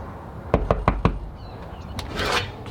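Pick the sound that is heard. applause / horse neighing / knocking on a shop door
knocking on a shop door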